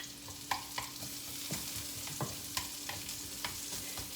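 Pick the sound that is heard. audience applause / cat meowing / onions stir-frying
onions stir-frying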